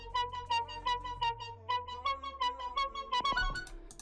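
Detuned synth lead with one oscillator pitched an octave up over another at base pitch, playing a bright sustained melodic line of short repeated notes alone, with a low tone gliding downward beneath it early on.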